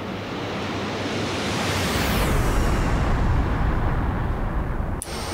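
Game simulation of a MiG-15bis jet flyby: a continuous broadband jet roar with a bassy undertone, swelling as it passes close and a descending whine as it recedes, ending in a brief sharp cut.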